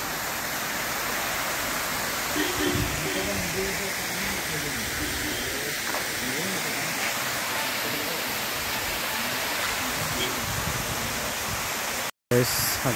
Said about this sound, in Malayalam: അടിപൊളി വെള്ളച്ചാട്ടമാണ്.